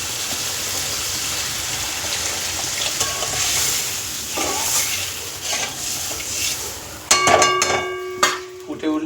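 A pan of Bengali fish curry with potato and eggplant in mustard oil sizzles and hisses steadily as water is added, followed near the end by a few clanks of a utensil against the pan.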